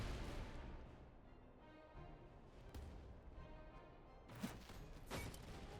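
Artillery guns open fire in the Master of Command strategy game, a quiet steady rumble with a few soft thuds and bursts, the clearest booms arriving near the end.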